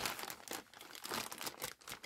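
A plastic bag is crinkled and crumpled up close in uneven bursts of crackling, loud rustles with short pauses between, no speech.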